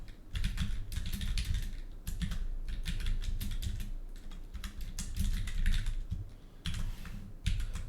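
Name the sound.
typing a script on a computer keyboard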